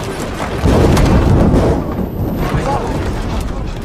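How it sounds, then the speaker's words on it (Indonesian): A very loud lightning strike cracks into heavy thunder, a deep booming rumble that swells suddenly and rolls on, dense and low. "dia dikejutkan dengan sebuah sambaran petir yang sangat-sangat menggelegar"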